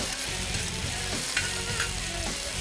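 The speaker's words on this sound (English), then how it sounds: "move those onions and peppers around nice and neat in your olive oil" Onions and peppers sizzle in olive oil while being stirred around the pan, a continuous loud hiss broken by soft scraping pushes, with no talk.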